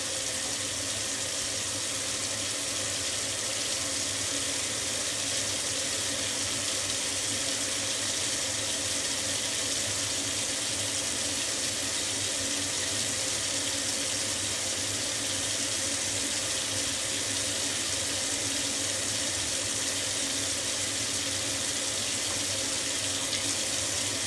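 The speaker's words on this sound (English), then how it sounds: "I know the water's running and it's probably loud." Water runs steadily from a kitchen tap as a continuous, even hiss and splash at close range, with no voices.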